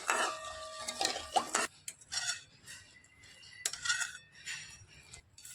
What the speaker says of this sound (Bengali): এবার নাড়াচাড়া করে মালাইটা আমি রেডি করে নেব।